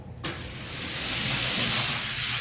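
Hot Wheels die-cast cars, a Viper among them, roll down a toy race track in a steady rushing whir that swells and holds for a couple of seconds after a brief quiet start.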